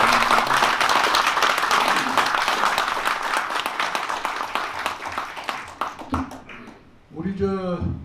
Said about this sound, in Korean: 큰 박수로 한번 환영을 해주시기 바라겠습니다